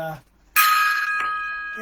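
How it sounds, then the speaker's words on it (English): A single bright metallic strike like a gong or bell rings out after a brief voice, its tone sustaining and slowly fading with a second softer hit partway through. "10 gong salute to Ted Turner and all the moms today."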